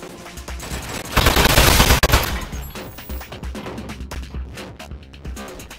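A loud, close burst of rapid automatic turret gunfire in the video game Aperture Desk Job fades into scattered echoing impacts and clatter.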